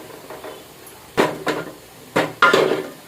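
A spoon stirs soybeans and green chillies in a metal cooking pot, giving four sharp clanks and scrapes in two pairs against a quiet background, with no talking.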